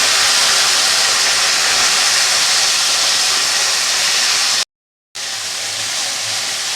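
Drumstick pieces tipped into hot oil with cumin seeds, giving a loud, continuous hissing sizzle that drops out for a moment and then resumes.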